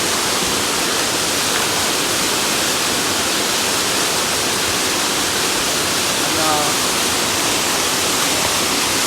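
Constant loud rush of falling water, a broad steady roar that fills the whole clip without pause.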